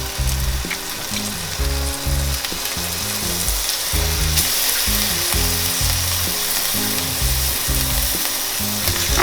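Tomato puree hitting ginger and garlic frying in a pan for butter chicken gives a loud, steady sizzle, with a rhythmic low mechanical hum running underneath and occasional stirring scrapes.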